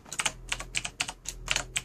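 Fingers tap a computer keyboard while a player sets up a game of SCP Containment Breach, with close, quick clusters of crisp clicks separated by short pauses.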